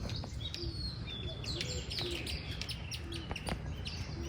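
Birds call and chirp at a zoo or bird park, with several short tweets scattered over steady background noise throughout.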